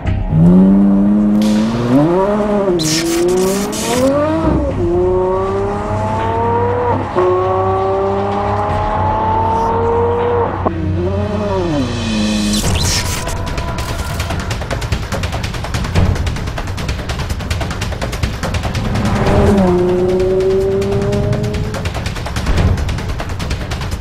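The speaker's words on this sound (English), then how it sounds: "When you finally see the car moving, there's an amazing sound to the engine" An Aston Martin One-77 on a race track revs high, climbing through its gears repeatedly, rising whines and loud bursts, then a rougher roar with crackles and another rising rev near the end.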